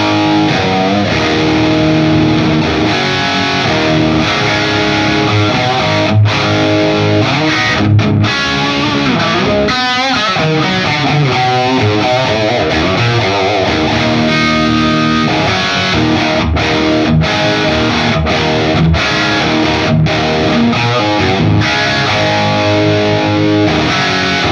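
Distorted electric guitar through a Headfirst Alta100 amp on its second channel, with hot-rodded Marshall-style crunch; loud, sustained chords and riffs played alone for about twenty-five seconds.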